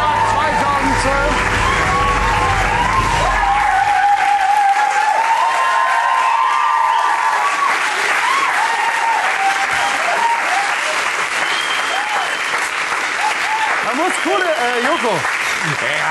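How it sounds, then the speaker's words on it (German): A German television studio audience claps loudly and steadily for the whole stretch. Low rumble at the start drops away after about four seconds, and some cheering rises over the applause. "Da klatscht ihr."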